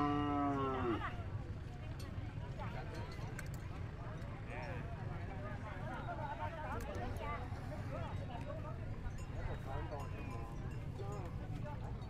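Cattle low and moo at a busy rural livestock market in Vietnam, with a loud call up close at the start and more distant mooing and hoof clops under steady crowd chatter and nearby talk.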